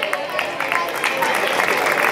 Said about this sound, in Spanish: Recibimos con un aplauso a Alba Delgado Calvo